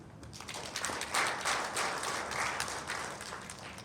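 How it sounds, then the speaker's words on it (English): A small group at a presentation session claps together, applause swelling quickly then tapering off over a few seconds, fairly close and moderately loud. "can we give another clap again?"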